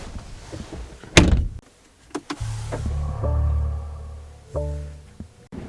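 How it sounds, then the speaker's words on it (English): Electric motors whirring as the side mirrors of a 2025 BMW i4 M50 power-fold in, a steady motor hum lasting a few seconds, framed by sharp clicks and a door thunk, with no talk. "the mirrors power fold in as well"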